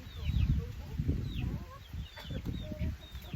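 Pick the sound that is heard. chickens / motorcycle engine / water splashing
chickens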